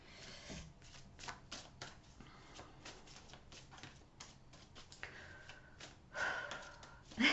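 Tarot cards are shuffled at close range in a quiet room, making soft repeated riffling and flicking, with a few louder slaps and a breath near the end.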